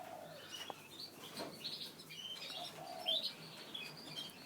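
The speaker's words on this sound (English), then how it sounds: "Those are the German rollers here." German roller canaries in a breeding cage chirp and warble continuously, with bright, overlapping trills and tweets at close range and no talking.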